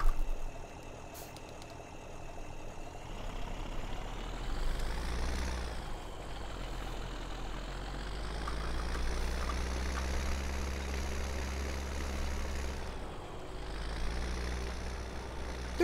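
A tractor engine in Farming Simulator 17 drones at a steady low idle and working hum, rising and falling in pitch through two gear or load changes, close and continuous with no speech.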